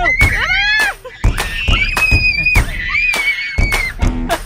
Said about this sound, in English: that was a lot of screaming.